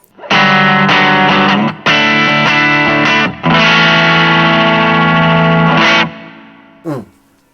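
An electric guitar played through a ZOOM MS-50G reverb set to medium decay and a low mix: several sustained, bright strummed chords ring out with short gaps, then a brief final stab, mostly dry with a light tail.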